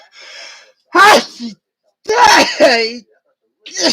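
A sharp sneeze bursts out close by amid short voiced sounds, followed by a second sneeze-like burst after a pause.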